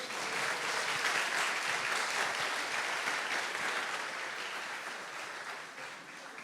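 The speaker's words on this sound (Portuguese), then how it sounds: "Palmas para ela, meus irmãos." A church congregation applauds steadily during an Easter service, dense sustained clapping filling the room at even volume for several seconds before easing slightly at the end.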